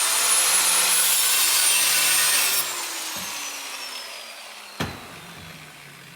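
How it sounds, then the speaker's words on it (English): An angle grinder with a cutting wheel slicing metal pieces for a rope light sleigh frame, a loud high-pitched whine that drops away as the disc winds down, followed by a sharp clank. "I'm using a grinder, a cutting wheel"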